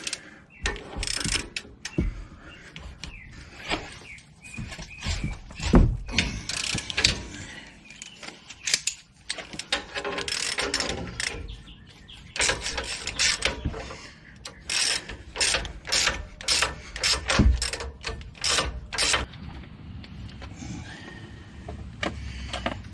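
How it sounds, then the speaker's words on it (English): Long ratchet loosening a bolt on the rear brakes of a 2017 RAM 1500 truck, bursts of rapid close clicking from the pawl repeating in uneven runs, with clanks of metal between strokes. "Just using a long ratchet."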